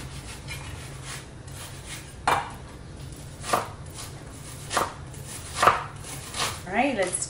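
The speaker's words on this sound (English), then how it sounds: "when you are gonna be adding some onion as a topping, you wanna make sure that you cut it really small" A knife chops raw onion finely on a cutting board, a few sharp, spaced knocks close up over a steady low hum, ending in a quicker cluster of cuts.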